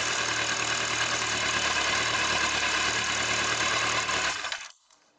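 A Kawasaki ZZR1100 D motorcycle, under restoration and just fitted with a new fuel pump, runs at a loud, steady idle close by, then cuts off abruptly just before the end.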